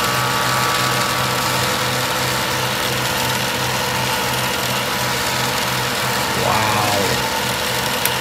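Small diecast race cars run on a moving treadmill, giving a steady whirring engine-like drone with a continuous buzzing hum throughout; a voice briefly exclaims near the end.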